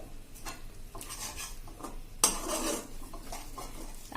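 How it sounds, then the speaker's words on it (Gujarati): Utensil scraping and clanking inside a pot as thick wheat-flour khichu is stirred, with a louder burst of scraping midway through and a steady clatter around it; no talking. "આ રીતે હવે આપણે એને હલાવી લેશું અને ગેસ બંધ કરી દેશું"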